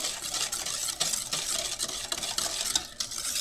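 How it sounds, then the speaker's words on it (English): Baileys Irish cream pudding mixture whisked briskly in a bowl, making a continuous rapid scraping and swishing with a steady rhythm and nearby clinks. "Now, it's whisk it all together, and then it says whisk for another 2 minutes."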